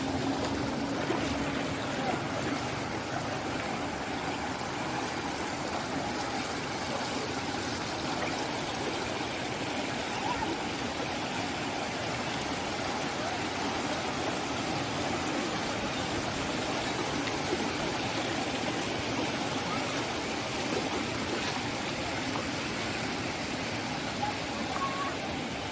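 River water pours over a small waterfall on the Thenpennai river near Hosur, a steady, fairly faint rushing wash that continues evenly throughout without any speech.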